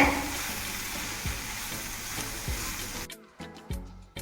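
Masala spices with turmeric, red chilli and coriander powder are sautéed in oil for a tamarind fenugreek kuzhambu, a close crackling sizzle with periodic stirring knocks that drops to sparse sizzles and clacks at the end.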